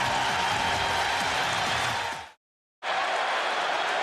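A stadium crowd at a 2004 NFL game between the Cowboys and Redskins cheers and applauds in a steady roar, cut by a brief silent gap before the noise resumes.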